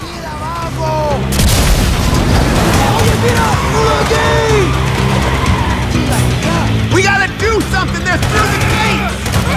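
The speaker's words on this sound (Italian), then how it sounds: "Fuochi d'artificio, spettacolo." Fireworks explode in GTA 5 gameplay: a dense, loud barrage of booms and crackles runs almost continuously, mixed with engine roar, tyre squeals and whistling streaks from the game.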